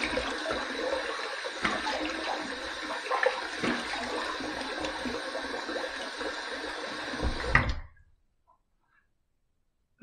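Tap water runs steadily and fairly close for about eight seconds while a face is rinsed after a wet shave, with small splashes through the flow, before it cuts off to near silence.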